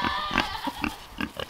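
Pasture pigs grunting near their mobile shelter on a small farm, with a string of short, close, rhythmic grunts and snorts.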